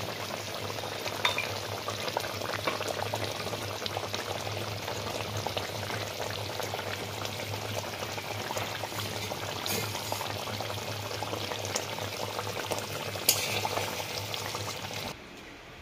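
Mustard hilsa curry simmering in a pan as raw mustard oil is sprinkled over the top, a continuous bubbling and sputter with a few brighter spatters, quiet and close, ending abruptly.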